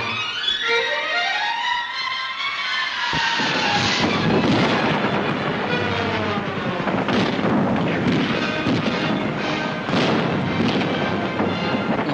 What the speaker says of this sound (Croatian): Borbi sudjeluje i topništvo, pomažući svojom vatrom djelatnost pješaštva.